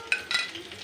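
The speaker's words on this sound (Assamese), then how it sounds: "1-2 মিনিট সময় আমি ভাজিব লাগিব। গোল্ডেন ব্ৰাউন কালাৰ নোহোৱালৈকে ভাজি থাকিম।" Chopped onions being fried and stirred in a pan for a masala besan curry, with quick clattering stirring strokes over a soft sizzle, close and brief.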